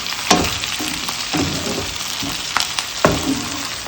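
Onions frying in a pan with a steady sizzle, punctuated by several sharp scrapes and clacks of a utensil stirring them, close and fairly loud.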